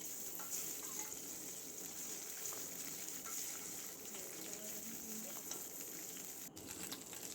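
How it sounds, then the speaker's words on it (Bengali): Tengra fish frying in hot oil in a pan, a steady dense crackle and sizzle running throughout at close range with no talk. "আমি আবার কটা মাছ ভেজে নিচ্ছি"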